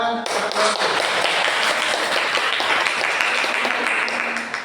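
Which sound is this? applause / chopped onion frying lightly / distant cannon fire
applause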